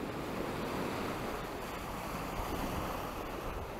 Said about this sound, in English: That sound is just like the surf coming in.